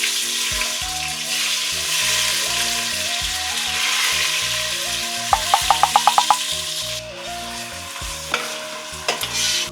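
Chopped onions hit a hot pan and sizzle steadily, with a spoon stirring and scraping throughout, a run of quick sharp taps midway, and background music playing over the cooking.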